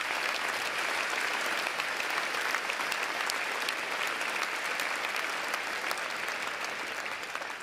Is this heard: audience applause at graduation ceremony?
yes